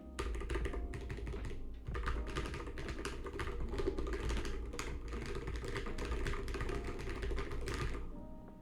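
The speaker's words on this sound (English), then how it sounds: "And now I'm gonna start pressing my keyboard." Steady typing on a computer keyboard picked up by a Fifine AM8 microphone, a dense, continuous patter of clicking keys at close range with no speech.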